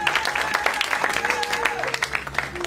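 A church congregation bursts into applause to acclaim the Lord, a dense burst of clapping with scattered cheers and voices, close and lively throughout.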